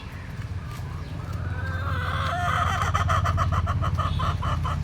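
Hens clucking close by in a backyard coop, a steady run of overlapping clucks and calls that grows busier and louder partway through, with no talking.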